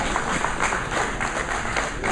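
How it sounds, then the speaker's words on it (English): Applause from attendees at a business networking event in Norwalk, Connecticut, a moderately close, steady patter of clapping hands with slight pulsing that continues throughout. "Let's give Win another round of applause."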